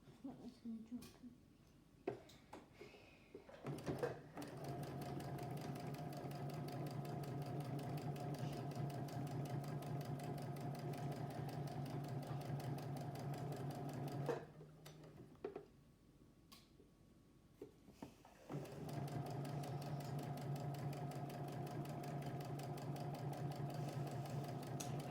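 Sewing machine stitching a child's fabric tote bag, running in long steady bursts with a brief pause in between, loud and close with a rhythmic whirring hum.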